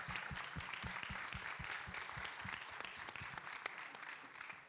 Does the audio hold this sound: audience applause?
yes